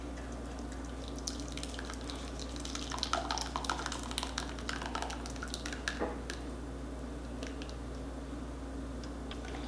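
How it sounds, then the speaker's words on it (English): Whiskey barbecue sauce pours and drips steadily through a metal strainer, with soft splashes and faint clinks over a low background hum. "I'm going to pour it away from me so it doesn't splash."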